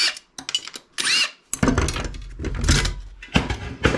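A power screwdriver backs screws out of a circuit board from a scrapped electronic device, in several short whirring bursts mixed with clicks and metallic clatter, close and fairly loud.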